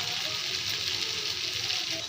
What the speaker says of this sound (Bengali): এখন আমি আলুগুলো ভালোভাবে কষিয়ে নেব।